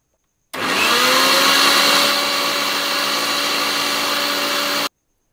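Electric mixer grinder blending chanachur chutney, starting abruptly with a loud high whine that runs steadily for about four seconds, eases slightly in pitch, then cuts off sharply.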